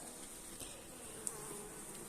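Honeybees buzz at mite-infested hive frames during an inspection: a soft, continuous swarm hum holds steady throughout, with a brief tap partway through.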